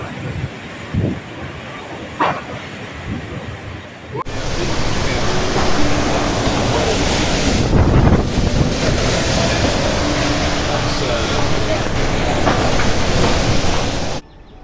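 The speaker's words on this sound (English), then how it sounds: "I think it's now what we call windy." Hurricane Beryl's strong wind sweeps over Carriacou as a loud, steady roar with gusts and buffeting against the microphone, starting after a few seconds of quieter rustling and lasting until it cuts off abruptly at the end.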